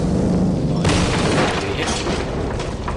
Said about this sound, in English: I think we will probably see an explosion that will destroy that very soon.